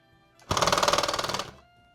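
A rug tufting gun fires a short test burst on a Christmas tree skirt project, a loud rapid mechanical rattle lasting about a second, starting and stopping abruptly against near silence.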